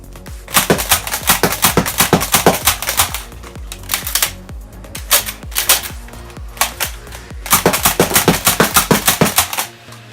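A Nerf Flipfury blaster fires in rapid continuous bursts, sharp snapping shots and mechanical clacks repeating in quick clusters, loud and close with brief pauses between volleys.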